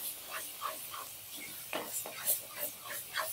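A spoon scrapes and stirs at close range as bottle gourd paste is mixed into masala frying in a pan, making soft, irregular scraping sounds over a quiet sizzle.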